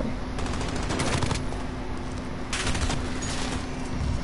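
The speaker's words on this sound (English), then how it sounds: "Oh, come on, I literally shot him." Video game gunfire crackles in rapid bursts of automatic fire over a dense, steady wash of game noise, with no talk.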